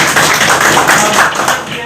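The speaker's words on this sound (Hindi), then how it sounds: "अमित जी, जोरदार तालियां।" Dense crowd applause fills a hall at a gathering of Nepali and Indian journalists as a journalist is honoured, steady and loud throughout with voices mixed in.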